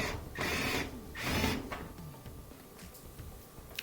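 Phillips head screw being driven into a switch on a Whirlpool dryer, with two close bursts of ratcheting, grinding mechanical sound followed by quieter faint clicks and handling noise.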